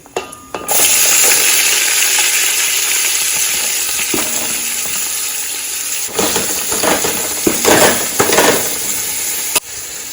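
Onions for a crab curry sizzle and fry in a hot pan, a steady loud crackle with occasional stirring clinks and scrapes, continuous throughout with no talking.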